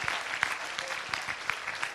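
Congregation clapping at an evangelistic crusade service in Portsmouth, giving a hand offering to Jesus; a brief, fairly quiet burst of scattered claps.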